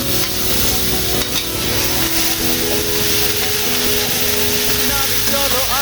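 Chilli, turmeric powder, green chillies, onion paste, ginger paste and a bay leaf fry in oil for catla fish malai curry, a dense steady sizzle with stirring, close, over a faint tonal background.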